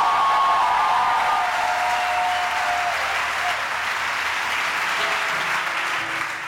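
A church congregation applauds and cheers for the Lord, a dense, steady roar of clapping that fills the whole stretch, stays loud throughout and eases off only slightly at the end.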